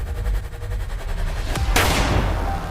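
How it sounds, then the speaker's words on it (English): A gunshot sound effect in a documentary cracks out as one loud sharp blast with a lingering echoing tail, following a low rumbling musical drone. "but with a gunshot in the dark."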